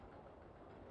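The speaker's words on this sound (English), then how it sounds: "Yet that's a train." A train ride on a roller coaster in the Roller Coaster Tycoon video game gives a steady, continuous rolling rumble, with broadband noise held at an even level for under a second.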